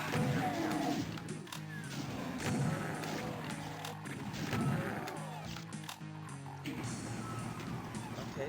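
Repeated booming blasts of the super shotgun in DOOM II land at a steady pace, each shot a heavy thump under a busy game backdrop, with speech also present.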